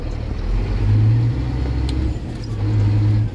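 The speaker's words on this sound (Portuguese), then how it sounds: "não precisa estourar o motor do caminhão, ó. Aí é a hora de você jogar a outra marcha" A Scania 124 truck's engine drones loudly and low from inside the cab, holding a steady pitch, dipping briefly, then settling again after a gear change.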